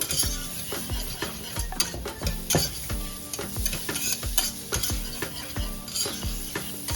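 Roughly three shallots and three cloves of garlic sweat in a pan, giving a steady soft sizzle punctuated by repeated sharp clinks and scrapes of a utensil stirring against the metal, with no voices.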